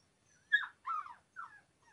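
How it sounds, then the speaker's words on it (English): A dog gives three or four soft, high whimpers and whines in short separate bursts, faint and close in an otherwise quiet room. "Great timing by the dog there."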